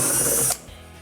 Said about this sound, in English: we're going to go ahead and remove this retaining screw right here